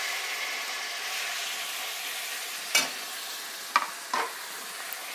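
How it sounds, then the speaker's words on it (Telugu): Steady sizzle of hot oil in a pan for goat head curry, with a few sharp clinks and scrapes as tomatoes are added and stirred, close and continuous with no talking. "ఇప్పుడు మనం టమాటాని యాడ్ చేసుకుందాం."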